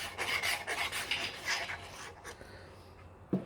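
Paper glued down onto a card with Stampin' Up glue, pressed and rubbed in a quick series of soft, close rasping strokes that fade toward the end, ending on a light tap.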